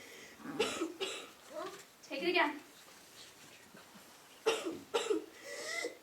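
A sick young girl, Minnie May, coughs in a few harsh, wet bursts close by, with spoken lines between the coughs.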